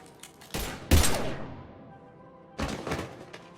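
Mass Effect 3 combat opens with a few sharp, loud gunshot bursts, heavy thudding impacts and a decaying rumble, then after a brief lull comes another cluster of shots.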